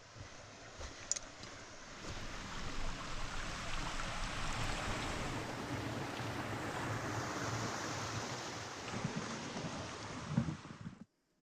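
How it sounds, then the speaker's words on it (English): Small waterfalls trickle through a mossy forest near a little footbridge, making a steady, dense rush of falling water that holds even and fairly close for the whole stretch before cutting off. "There's a little bridge over here, and tiny waterfalls."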